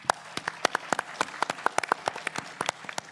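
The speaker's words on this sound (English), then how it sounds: "one more round of applause for our student track" Audience applause at a university startup pitch competition finals, a modest crowd clapping in sharp, distinct claps at moderate volume, with no talking.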